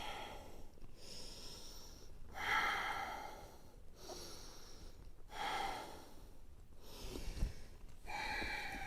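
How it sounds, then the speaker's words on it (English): Ujjayi yoga breathing through a constricted throat: slow, soft rasping inhales and exhales repeating in an even rhythm, about five cycles, faint and close with no talking. "Really constrict the throat as you find that ujjayi breath"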